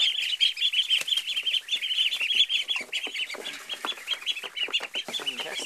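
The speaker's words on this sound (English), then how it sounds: "Oh, these are the wild ones, the blue Swedish ducks." Blue Swedish ducklings peep and quack in a dense, continuous chorus of high, rapid calls, close up and loud, with no talking over them.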